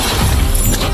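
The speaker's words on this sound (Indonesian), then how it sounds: "Tapi justru belatinya yang malah hancur sendiri." A dagger shatters in a Chinese donghua animation: a loud, dense crashing burst that lasts about a second, alone with no voices.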